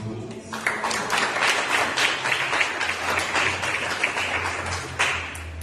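Steady applause from a church congregation during a youth group service, a continuous wash of clapping with a low hum underneath, holding level throughout.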